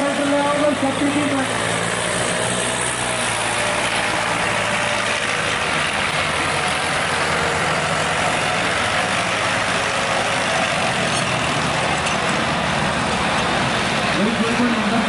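Powertrac tractor engine in Punjab labours steadily while pulling a harrow, a loud continuous diesel drone with low rumble and mechanical clatter throughout, with voices talking over it.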